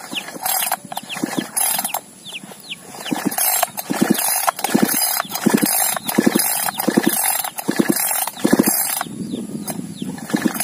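A new two-stroke chainsaw engine being cranked by pull cord, giving repeated rhythmic ratcheting pulls with mechanical clatter, close and fairly loud, with no voices.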